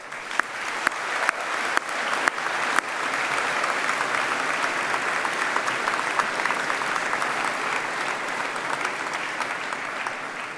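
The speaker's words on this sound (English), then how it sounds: "please join me in a round of applause to thank all those people who have helped you along the way" Graduates and guests at a university graduation ceremony break into applause, beginning with a few scattered sharp claps that swell into a steady, full round of clapping from a large hall audience, continuing without talk.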